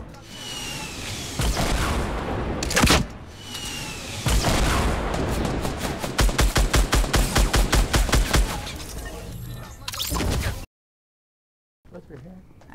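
Rapid bursts of gunfire from a gun in Fortnite Battle Royale, loud and close, with a long run of evenly spaced shots around the middle and a voice talking in between before the sound cuts to silence.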